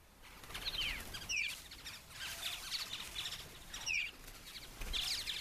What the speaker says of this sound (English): This bird specializes in plagiarism. It's an Australasian fig bird,